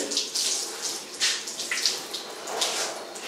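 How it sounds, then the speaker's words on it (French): A bathroom tap runs while hands are wet under the stream, giving a soft continuous splashing hiss with small irregular surges. "j'ouvre le robinet, je règle le débit d'eau, je me mouille les mains."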